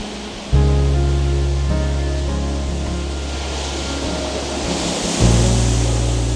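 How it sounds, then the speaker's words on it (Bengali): Sea waves wash steadily onto a quiet beach at Bagda, making a loud continuous surf roar throughout, with a low steady hum underneath. "সমুদ্রের আওয়াজটা দুর্দান্ত লাগছে।"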